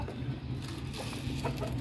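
Chickens, including a white rooster, cluck while feeding on scattered grain, brief close clucks over a low background hum.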